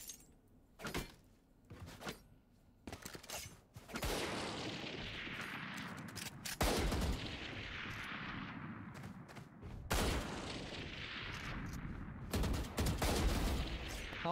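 Valorant gunfire plays close and loud: scattered single shots and short bursts, then long sustained volleys with crisp reports and ringing tails. No talking is heard.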